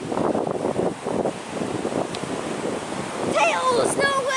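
Sea waves wash onto a beach under gusty wind buffeting the microphone, a steady, fairly loud rush with faint talk underneath.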